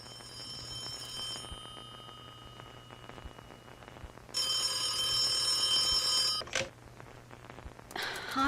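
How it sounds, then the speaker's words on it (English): A telephone rings in the video game The Occupation, a loud electronic trill lasting about two seconds that stops abruptly, with quieter chiming tones and a low steady hum before it and another brief ring at the end. "Harvey Miller, do you ever answer your phone?"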